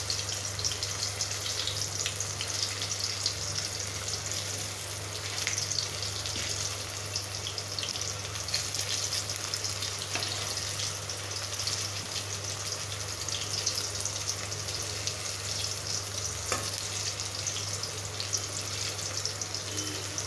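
Raw banana pieces fry in oil in a pan, giving a steady, even sizzle with a watery hiss that runs unbroken at moderate volume, with a low constant hum underneath and no talking.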